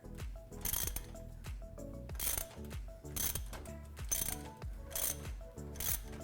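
A ratchet tightens an exhaust clamp during a cat-back exhaust install on a 2015-2019 Ford F-150. Repeated bursts of fast clicking come close and fairly loud, in several spells under a steady tonal backing.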